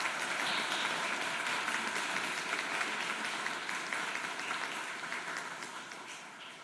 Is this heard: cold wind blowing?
no